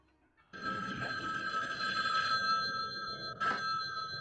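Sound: telephone ringing in Halloween fan-made PC video game

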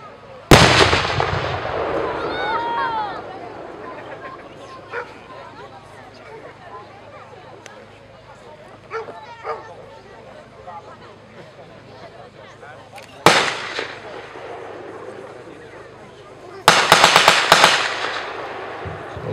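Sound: machine gun firing in battle reenactment

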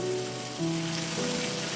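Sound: onions frying in oil

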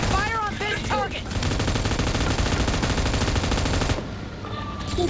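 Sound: gunfire in the video game PUBG Mobile

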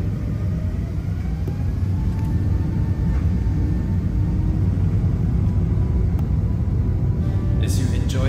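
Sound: Singapore Airlines A380 taking off on the runway

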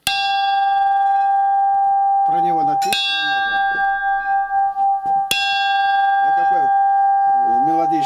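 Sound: old bronze bell ringing

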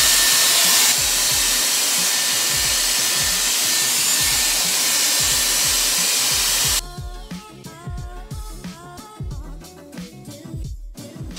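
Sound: Dyson Airwrap volume brush blowing air

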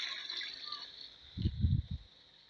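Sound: water being poured into liquid disinfectant mixture

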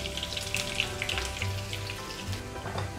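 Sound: onion frying in oil for kadhi tempering

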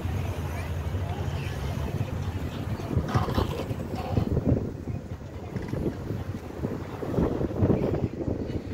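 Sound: wind blowing at the seaside

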